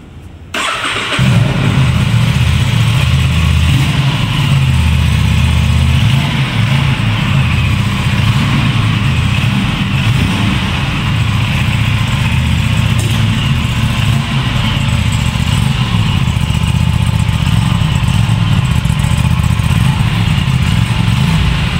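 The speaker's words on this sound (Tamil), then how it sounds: "இப்போது வண்டியோடைய எக்ஸாஸ்ட் நோட் பார்க்கலாம்." An Aprilia RS 457 motorcycle engine starts and settles into a steady, deep, loud exhaust rumble that holds close and unchanging for about twenty seconds.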